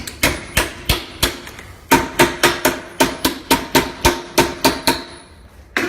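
A hammer taps a metal leaf for a rose panel repeatedly in a steady, ringing rhythm, about a dozen close, sharp strikes with a brief pause partway through.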